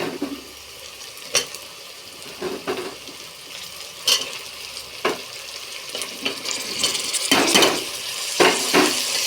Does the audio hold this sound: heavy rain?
no